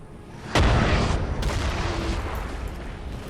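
Artillery bombardment in Napoleon: Total War, a single heavy cannon boom hitting suddenly, followed by a long rumbling roll and a fainter distant shot, set against steady battle ambience.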